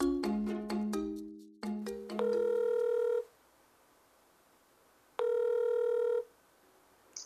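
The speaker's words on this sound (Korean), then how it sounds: "오랜만에 친구에게 전화를 걸어봅니다." A telephone call is placed: a rapid run of keypad dialing tones, then two long electronic ringback tones separated by a pause, clear and close.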